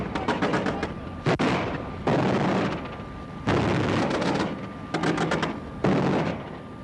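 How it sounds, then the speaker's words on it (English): A ZSU-23-4 Shilka self-propelled anti-aircraft gun fires its 23mm cannons in several loud, sustained bursts of rapid automatic fire, each lasting about a second, separated by short gaps, heard close and without speech. "Afghan soldiers named it the Syrian machine because of the sound its cannons make when firing."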